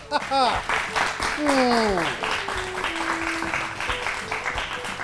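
Applause greets a correct answer on a children's educational quiz show, a bright burst of clapping mixed with cartoonish sliding sound effects and voices, then trailing into lighter clapping under talk.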